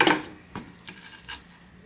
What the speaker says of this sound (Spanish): Lo voy a estar partiendo a la mitad para que veamos qué tal está de sabor este boli